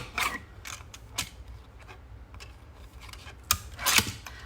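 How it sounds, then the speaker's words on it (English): A small paper trimmer cutting paper, a series of brief crisp slicing and clicking sounds: a few separate strokes early on, then a louder pair near the end, all close and quiet with no talking. "I will say this little trimmer has come in very handy"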